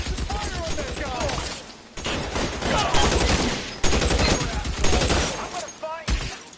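Bursts of rapid gunfire from the video game L.A. Noire during a shootout, loud volleys continuing almost without a break and cut by short gaps, with no talk over them.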